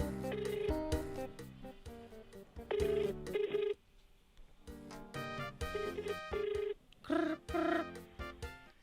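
A cellphone rings during a radio call-in show, a loud repeating electronic ringtone melody in bursts with short gaps, close and clear with no talking over it.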